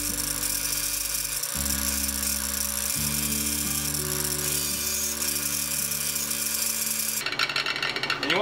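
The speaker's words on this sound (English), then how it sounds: "you want to have the wheel run in the same direction all the time" A motorized buffing wheel polishes an old handsaw blade during a restoration. Its steady, loud electric whir shifts pitch a few times as pressure changes, then turns into a harsher, rougher grinding near the end.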